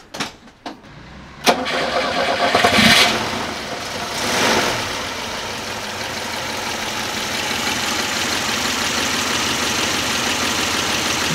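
An old boxy Hungarian police car has its engine cranked and started after a few clicks, revving up briefly before settling into a steady, loud, close idle rumble with no talk.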